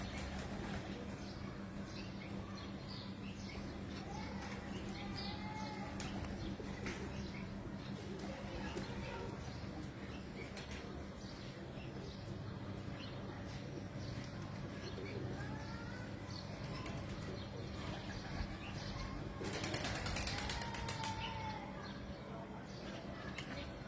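Pigeons of a flock sold in Dubai coo softly and repeatedly in a hot aviary, with faint chirps and steady background hum throughout, and voices talking intermittently under the birds.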